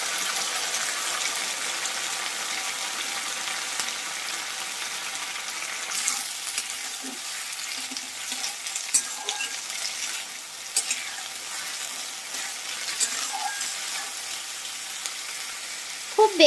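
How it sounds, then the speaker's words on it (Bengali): Soaked Gobindobhog rice frying in hot ghee for payesh, a steady broadband sizzle throughout with occasional soft stirring scrapes, close and fairly loud, no talking. "100 গ্রাম গোবিন্দভোগ চাল, যেটা আধ ঘন্টা ভিজিয়ে রাখা ছিল, সেটাকে এবার ঘিয়ের মধ্যে দিয়ে একটু ভেজে নিচ্ছি।"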